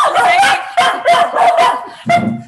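Dogs bark in a quick series of five or six sharp, loud yips close to the listener, with short gaps and no talk.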